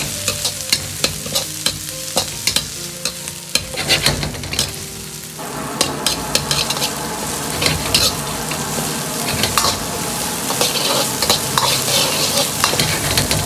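Green and red bell peppers and diced onion stir-fried in a little oil in a wok, a sizzling hiss broken by frequent sharp scrapes and clacks of the spatula, close and busy throughout.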